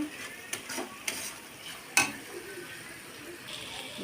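Chicken biryani masala sautés in a pan with a soft, steady sizzle, broken by a few sharp spoon clicks against the metal.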